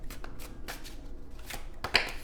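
Tarot cards shuffled by hand in a few quick bursts of papery riffling and slaps, close and crisp, with no voice over them.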